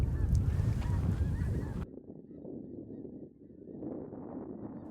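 Canada geese at a bird refuge honk in a loud, dense flock at first, then the sound cuts to a quieter, farther-off stretch of softer honks and calls against open outdoor ambience.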